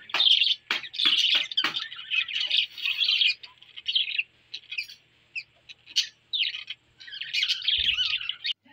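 Pet birds chirp and tweet near a charcoal barbecue where beef and chicken boti are grilling, a busy run of bright, repeated calls and squawks close by, with no talking.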